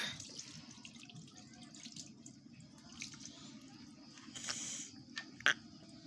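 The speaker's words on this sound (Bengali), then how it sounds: "ওই দেখো এখন কিন্তু হাতটা ধুয়ে নিচ্ছি।" Hands being washed under running water from a tap while chicken curry is cooked on a clay stove; a steady faint water flow continues throughout, with a few brief clinks near the end.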